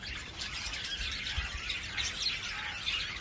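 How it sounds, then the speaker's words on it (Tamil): Lovebirds chirp in a busy cluster of small high tweets over steady background noise, probably at an aviary in a recreation park. No one speaks. "லவ் பேர்ட்ஸ் இருக்குது."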